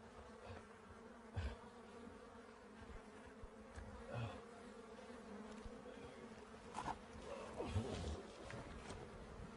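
Faint, steady bee buzzing hums through the whole stretch, with a few brief louder bumps and rustles near the microphone as bees crawl on a person's hands and forehead.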